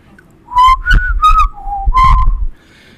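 A melodic human whistle in several short tuneful phrases, close and clear, with brief pauses between notes and no talking.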